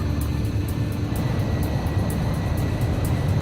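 A damaged fighter jet flies in the video game Ace Combat 5, giving a loud, steady engine roar with broad rushing noise and faint rhythmic high pulses throughout, with no talk.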